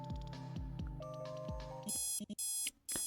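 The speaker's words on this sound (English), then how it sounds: "You confirm your choice and a beeping starts" Repeated electronic beeping alarm from the video game MalViolence, a steady bright tone pattern that sounds alone, pulsing loudly with brief dropouts near the end.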